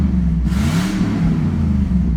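A 2005 all-aluminum L33 5.3L LS V8 truck engine rated at 315 horsepower, with flat-top pistons and 799 heads, idling loudly up close and then giving one quick rev that swells and settles back to a steady rumble.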